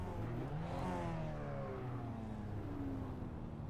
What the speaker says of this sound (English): the drivers rev their engines